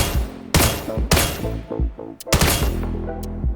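A bolt-action rifle fires repeatedly in a VR video game, several sharp loud cracks at uneven intervals, each ringing out with a short metallic tail amid game sounds.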